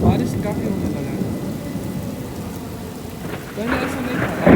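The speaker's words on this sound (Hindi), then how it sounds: "अभी बारिश काफ़ी होने लगा है" Heavy rain pours steadily in a labour city in Qatar, a dense close hiss drumming on surfaces from a corridor, swelling louder near the end with a brief voice.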